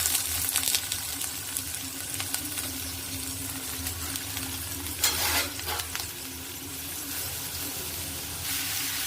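Onions and garlic fry in oil in a kadai with a dense, steady sizzle close by, broken by a couple of brief louder bursts of stirring and scraping midway.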